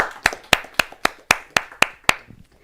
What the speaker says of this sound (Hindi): इनका जोरदार तालियों के साथ अभिनंदन करते हैं।